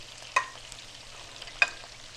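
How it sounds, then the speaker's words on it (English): Garlic, cherry peppers and sweet peppers sautéing in a pan for chicken scarpariello, with a soft steady sizzle and two sharp scrapes of a utensil against the pan about a second apart. "we saute this like this"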